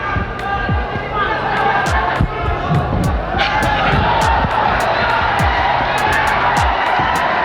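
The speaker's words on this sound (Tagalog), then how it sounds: "The crowd egging on Pacquiao." A live boxing crowd in a 1995 Manny Pacquiao versus Dele Desierto fight roars and cheers on Pacquiao, a loud, steady wall of crowd noise with thumping impacts and a commentator talking over it.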